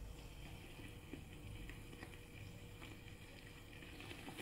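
Water bubbles and simmers in a steady, faint churn, with a soft continuous rush and occasional small pops.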